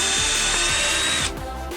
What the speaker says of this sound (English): I'll drill about 3/16 to 1/4 of an inch depth for the button screw covers